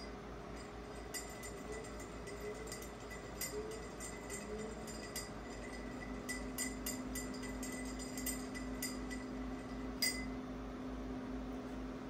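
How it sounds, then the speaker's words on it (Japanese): A bar spoon stirs a cocktail in a glass, producing faint, soft swirling with scattered light clinks of metal against glass over a quiet room hum, with no voices. "まずはステアをしてみますので、練習する前に一度どういうものかを見てみてください。"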